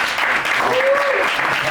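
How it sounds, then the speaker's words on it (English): An audience at a songwriting gathering breaks into a dense wash of applause that fills the whole moment, loud and close, with a faint voice or whistle-like tone rising briefly above the clapping. "if we can give a round of applause to y'all"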